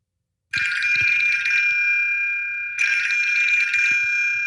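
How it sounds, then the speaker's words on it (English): A loud, shrill electronic wake-up alarm rings continuously, pausing briefly once before starting again, with faint knocks underneath. "Whenever the alarm goes off, that means it's time to get up."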